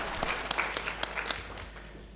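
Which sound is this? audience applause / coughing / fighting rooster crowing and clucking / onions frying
audience applause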